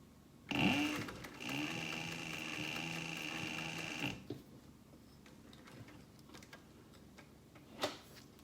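Class 20 sewing machine stitching slowly through the leather liner of an Apple Watch band, a steady mechanical whir with ticking needle strokes for about three and a half seconds, then quieter handling noises.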